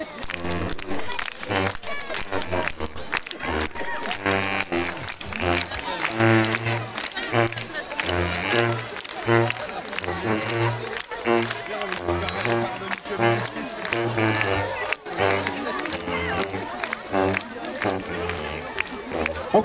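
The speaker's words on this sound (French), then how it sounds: "On continue à les applaudir jusqu'au bout" A crowd applauds a group at the 2022 Denain carnival night parade, its clapping and cheering blended into loud, steady drum-driven band music while a voice talks over it throughout.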